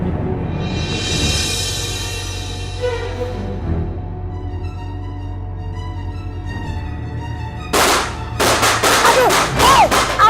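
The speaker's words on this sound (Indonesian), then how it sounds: "Iseng banget sih kamu ini main petasan." Firecrackers burst in a quick sharp run near the end after a stretch of music-like tones, several loud cracks in close succession at close range.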